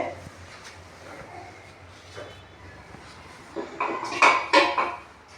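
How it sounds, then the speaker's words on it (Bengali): Masala for a flat bean curry being stir-fried in a pot: low, quiet scraping for the first few seconds, then louder clattering and scraping of a spoon against metal near the end. "তার জন্য মশলাটা ভালোভাবে কষিয়ে নিতে হবে।"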